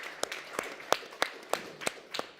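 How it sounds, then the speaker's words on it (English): Sparse handclaps from a conference panel audience at a climate action session, several distinct claps at irregular intervals rather than full applause, fairly quiet and close. "I think we should give him a round of applause."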